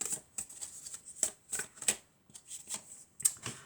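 Tarot cards shuffled and drawn by hand during a general and love guidance reading: a string of crisp, papery riffles and slaps in irregular bursts, close and fairly quiet, with no talking.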